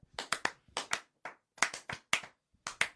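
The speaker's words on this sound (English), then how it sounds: "Give a round of applause." Sparse, irregular hand clapping from just a few people, each sharp clap distinct with short gaps between bursts, fairly quiet and close, with no talking over it.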